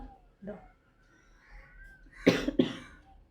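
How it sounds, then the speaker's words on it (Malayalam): Two sharp coughs brought on by cloth dust stand out near the end, following some quiet speech and faint background sounds. "പൊടീൻ്റെ തുണിയുടെയൊക്കെ പൊടി കൊണ്ടിട്ടേ ചുമ"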